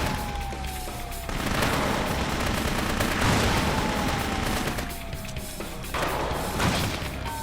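Dense, continuous gunfire and explosions from the video game World of Metal SlugCraft, loud, busy rattling bursts layered with booms and rising tonal effects, no talking heard.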